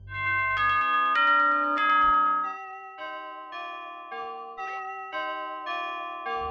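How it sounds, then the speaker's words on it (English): Grandfather clock chime signalling the end of a night in the Five Nights at Freddy's video game, a bright bell-like melody of struck notes ringing clearly one after another, alone with no talking. "A grandfather clock, chiming the same song every time."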